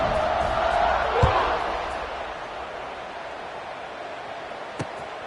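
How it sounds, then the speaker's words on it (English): A college football stadium crowd buzzes after a score, a steady, distant roar of many voices that swells early and then eases into a lower murmur, with a couple of sharp thuds. "this crowd is buzzing after that last score"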